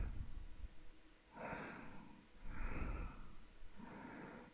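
A computer mouse clicks repeatedly in Photoshop, giving faint, sharp ticks spread across a few seconds, heard under soft breathing and rustling close to the microphone.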